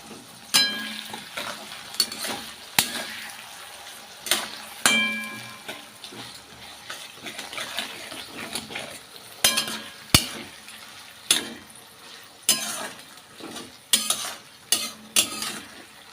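Chopped onion frying in a pan for a cabbage dish, with a spoon stirring and scraping at intervals, sharp metal clinks over a steady, close sizzle, no talk.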